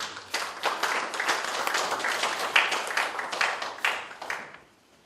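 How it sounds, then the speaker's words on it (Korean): An audience at a digital signage conference claps to welcome a speaker, a moderate burst of many hands with distinct individual claps audible, building quickly and fading out after about four seconds. "큰 박수로 환영해 주시기 바랍니다"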